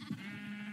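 A sheep bleats in a Minecraft sheep farm, one short nasal wavering call, close and fairly faint, with no talk.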